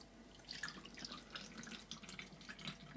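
Homemade oat milk pours through a tight-knit cloth filter with a faint, steady trickle and soft dripping splashes, quiet and close.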